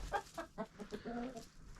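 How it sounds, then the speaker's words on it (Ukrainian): Several chickens cluck in short, uneven bursts nearby, with a few rising calls mixed in. "Зараз тут сидять кури"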